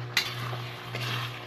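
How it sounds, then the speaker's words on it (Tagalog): Chayote and sardines cooking in a pan, a steady low bubbling simmer with soft sizzle and an occasional light clink of a utensil against the pan, close and continuous with no voices. "Ayan na guys, kumukulo na ang aking niluluto."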